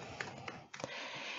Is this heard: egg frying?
no